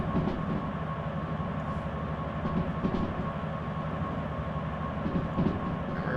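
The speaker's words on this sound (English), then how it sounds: "Apply a little bit of train brake there." A train rolls steadily along the rails with a continuous low rumble and faint rhythmic clatter as the train brake is applied, close and sustained throughout, with no voices, in the video game Derail Valley.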